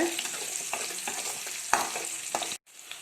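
Garlic and small shallots sauté in hot oil for a Tamil sundakkai vathal kuzhambu, a steady close sizzle broken by several scraping stirs of the pan and one sharp knock near the end before it briefly cuts out.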